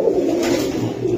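Pigeons coo at a pigeon market, with low, throaty, rolling coos sounding close and continuous over a brief stretch, alongside faint background bustle.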